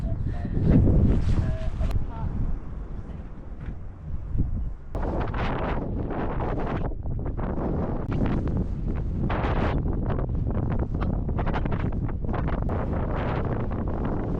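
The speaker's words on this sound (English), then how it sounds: "It's so windy." Strong wind on the Isle of Skye coast near a lighthouse buffets the microphone in loud, rumbling gusts that roar continuously, with heavier bursts at the start and a steady blustery rush afterward.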